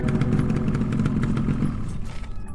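A rented motorcycle rides on the road from Chandigarh toward Shimla, its engine a loud continuous rumble with clattering mechanical noise, steady and close throughout with no voices.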